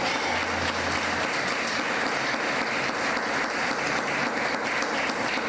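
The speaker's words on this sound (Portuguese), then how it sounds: "Aplaude aí a Jesus." A church congregation applauds during a sermon, a dense, continuous wash of clapping that stays even and loud throughout, with a faint low hum beneath.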